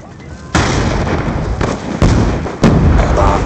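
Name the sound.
bomb explosion in video game Black Ops II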